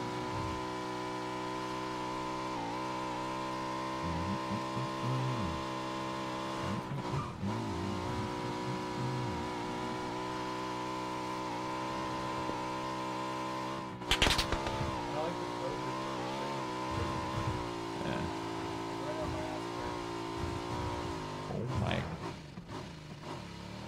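A car is driven in PUBG, its engine droning steadily throughout and revving up loudly near the middle, while someone talks over it in bursts.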